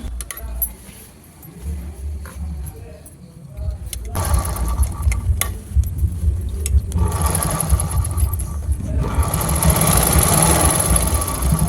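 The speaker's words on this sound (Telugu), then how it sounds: "పూర్తిగా కుట్టేసిన తర్వాత మళ్ళీ వెనక్కి తీసుకెళ్ళి మళ్ళీ ఇంకో స్టిచ్ చేసుకోవాలన్నమాట." A sewing machine stitching the fall onto a saree with zig-zag picot work, rattling in steady bursts that stop and restart, with someone talking over the stitching.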